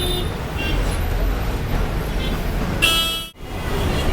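Busy road traffic at the Maduravoyal bypass in Chennai, heard from an interstate bus: a steady rumble of buses and cars, with a sharp horn toot near the end and a brief dip in the noise just after.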